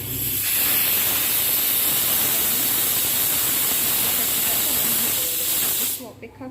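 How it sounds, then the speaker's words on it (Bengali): A pressure cooker whistle releasing steam in a home kitchen, a loud continuous hiss lasting several seconds before cutting off abruptly, close and dominant. "এবারে সিটি দেব এটাকে আমি ঢাকনা দিয়ে দেবো অলরেডি তিনটে সিটি হয়ে গেছে এইটা নিয়ে চারটে হবে"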